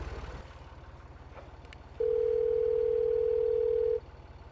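Telephone dial tone, a steady loud tone lasting about two seconds, over a low engine-like hum in the background.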